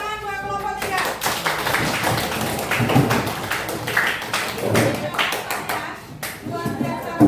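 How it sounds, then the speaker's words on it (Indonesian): Classroom applause for student group 3, a dense patter of many hands clapping for several seconds, with voices talking over it. "beri tepuk tangan buat kelompok 3"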